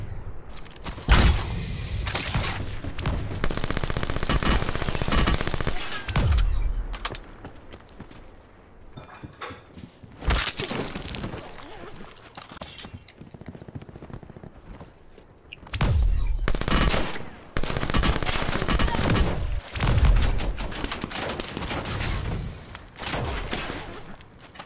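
Bursts of automatic gunfire in Call of Duty Black Ops 4, loud, dense rattling volleys lasting several seconds each, broken by quieter gaps and repeated a few times, with no voices.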